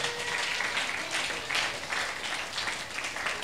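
A church congregation applauds in a steady, dense wash of many hands clapping together, moderately loud and continuous throughout, with no clear individual claps standing out.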